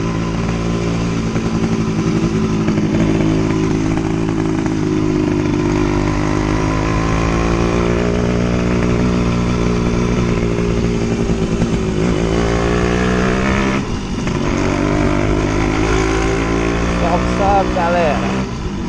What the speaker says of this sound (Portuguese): Logo, logo tá acelerando forte.